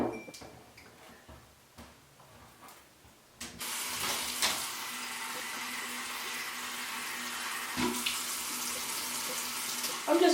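Quiet clinks and taps give way to a strong, steady rush of running tap water, a plant item being rinsed of debris and algae under it with occasional bumps.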